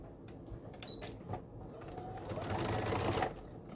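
A sewing machine runs a quarter-inch seam on an Irish Chain quilt block, its stitching hum building and growing louder toward the end of the short run, with faint handling noises earlier.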